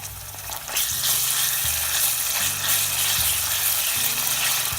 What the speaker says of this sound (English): Alright, so it has been frying.